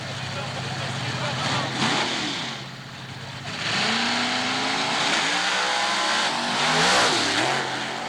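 A Camaro drag racing car revving at Southeastern Dragway, a loud engine rising and falling in pitch with a steady crowd and track roar behind it, voices mixed in.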